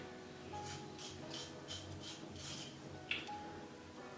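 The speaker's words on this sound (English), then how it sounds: "I just want to sharpen it." Soft, repeated rubbing and rasping strokes as a NYX suede lip liner pencil is sharpened, a steady scraping rhythm heard close up and quiet, with a small sharp click near the end.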